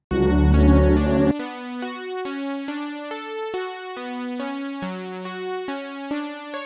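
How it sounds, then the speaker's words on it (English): Bright detuned saw-wave synth plucks from the Serum synth play a stepping melodic line of short notes, following a brief denser chord at the start; no voices. "It's just a saw wave, a little bit detuned"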